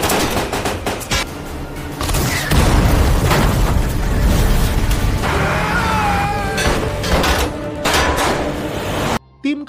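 A film shootout with dense gunfire and booming RPG explosions plays continuously and loudly, with overlapping bursts, blasts and score. The sound is close and busy, then drops out briefly near the end.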